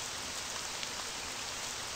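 Steady rain in a Japanese horror game, heard as a constant fine hiss of falling drops, even and close throughout with no voices.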